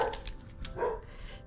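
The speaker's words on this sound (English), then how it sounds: "well, Chico barking." A dog barks a few times in short bursts, faint and somewhat distant indoors, with no talk over it.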